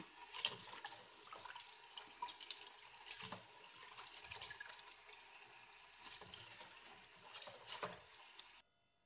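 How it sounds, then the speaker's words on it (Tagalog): Lentils being rinsed in water before boiling, with a steady run of splashing and trickling, repeated small swishes and faucet-like flow throughout, close and moderately loud, no talking. "Hugasan ko muna siya bago ko i-boil."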